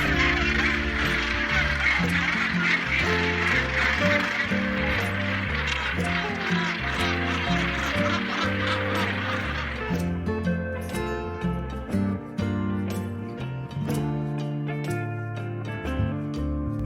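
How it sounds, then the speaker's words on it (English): A large seabird colony of over 200,000 birds on an island calls continuously, a dense loud chorus of honking, overlapping cries that later thins to sharper individual calls over steady background music. "Visitors can get very close to the colony and observe these fascinating birds from several viewing platforms."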